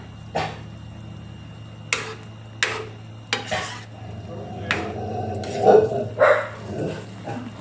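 A few short dog barks sound in the background amid kitchen clatter and stirring, fairly faint and irregular.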